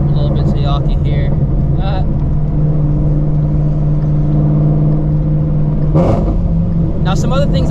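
A first-generation Shelby GT350 Mustang engine droning steadily while driving, heard from inside the cabin with windows partly up, a low sustained hum under near-constant talking, with a brief louder swell toward the end.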